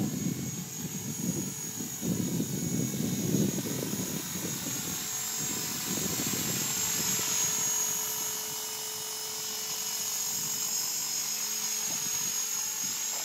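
An ELKS300X RC helicopter flies nearby with a steady high-pitched rotor and motor whine, heavier low buzzing early on that eases into a constant hum throughout.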